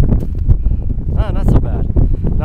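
Wind gusts across the exposed Cockscomb ridge near Teasdale, Utah, producing a steady, close, low buffeting rumble on the microphone throughout, with a voice briefly audible over it.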